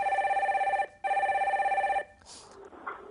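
Telephone ringing during a call-in stock advice broadcast: two long electronic ring bursts with a short gap, loud and alone, fading into quiet room noise.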